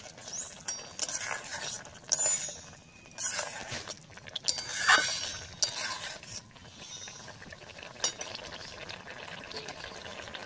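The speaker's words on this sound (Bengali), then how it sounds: "এখন দিয়ে দিচ্ছি পনিরগুলি।" Paneer dropped into a pan with curdled yogurt and stirred, giving soft scraping and stirring with light clinks of a utensil against the pan, steady through the clip, with a few louder knocks near the middle.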